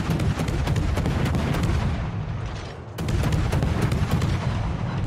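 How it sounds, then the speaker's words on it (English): A video game warship firing high explosive shells in rapid spam, a dense, continuous barrage of loud overlapping booms and cracks with only a brief dip before firing resumes. "I need to stop shooting for a second so Kremlin doesn't detect me."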